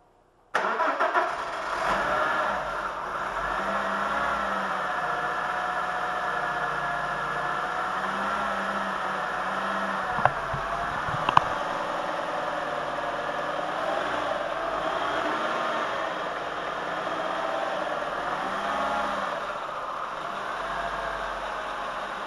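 An Audi Quattro with a turbocharged VR5 engine cranks and catches, then runs steadily at a mid-pitched idle with a couple of brief revs, close and continuous throughout.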